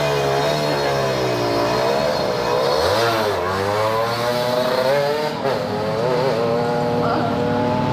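A Kawasaki Ninja two-stroke motorcycle with a tuned daily-ride setup rides a busy, slippery road at night, its engine droning steadily with rising and falling pitch sweeps as it revs, close and loud throughout.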